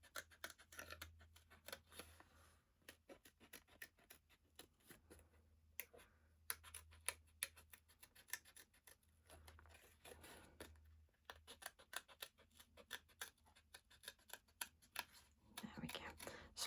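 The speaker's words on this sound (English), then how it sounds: "So just cut this out, and it looks beautiful when it's cut out." Scissors snip out a vintage-style paper card design, a long run of quick, close, crisp cuts with short pauses and rustling paper between them.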